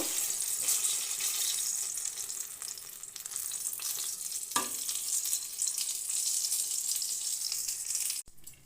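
Eggplant slices fry in hot oil in a pan, a loud continuous close sizzle with a brief clatter midway and a sharp knock near the end, no voices.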